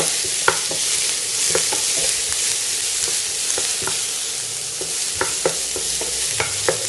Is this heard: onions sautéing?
yes